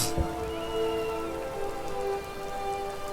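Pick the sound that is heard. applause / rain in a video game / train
rain in a video game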